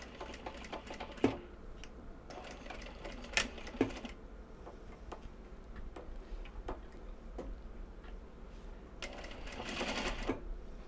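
Sewing machine stitching gyoza bags made from Japanese fabric, running in short bursts separated by pauses, with sharp ticks and clicks between runs; close but fairly quiet.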